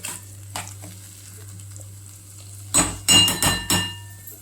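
A spoon scrapes and clatters against a pan while Kolhapuri-style brinjal bharit is stirred and mixed, sounding as a few scattered knocks and then a close burst of four or five loud metallic strokes over a low hum.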